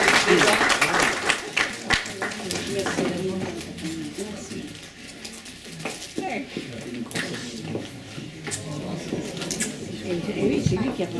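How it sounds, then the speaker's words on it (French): Audience applause for a remarried couple at a golden, diamond and platinum wedding anniversary celebration, clapping in a steady wash throughout, mixed with talk in the room. "vous pouvez les applaudir, ils sont remariés."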